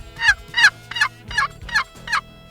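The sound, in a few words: turkey call imitating a turkey gobble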